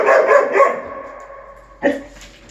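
A dog barks three times in quick succession up close, then goes quiet before letting out one more short bark or yelp, all heard indoors during a behaviour training session with no talking.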